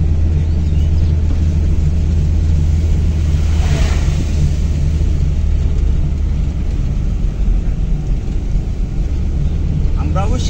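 A manual car driving along during a first-day driving lesson, with a loud, steady engine and road rumble throughout and a brief whooshing swell near the middle, no clear talk.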